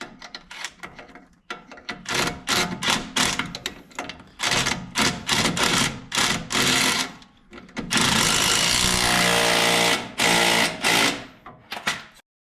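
A 17 mm socket drives a bolt tight while installing a leveling kit on a 2007 Chevy Silverado. The sound is a close, loud run of rapid mechanical bursts with short gaps and a longer sustained stretch near the end.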